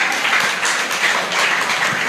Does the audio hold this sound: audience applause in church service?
yes